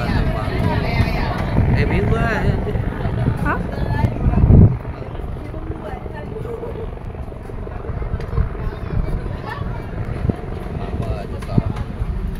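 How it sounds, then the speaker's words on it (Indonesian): Loud thudding rotor and engine drone of a helicopter passing overhead at a sandy beach area in Thailand, steady and close throughout with a brief surge partway, under faint background chatter. "Helikopter."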